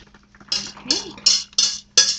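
Cheese sauce being stirred into noodles in a pot for baked mac and cheese: a utensil scrapes and clinks against the pot in about five steady strokes, close and clear, with no talking.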